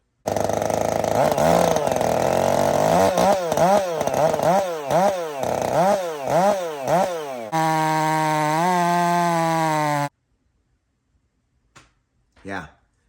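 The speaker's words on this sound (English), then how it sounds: "And I cut the same piece of wood that I left when I left that day with the old muffler on it, the stock muffler" A Husqvarna 562 chainsaw with a modified muffler cutting a 20-inch round of wood: a loud, close engine surges through repeated rhythmic revs, then holds a steady high scream before cutting off abruptly, leaving near silence with a couple of faint knocks.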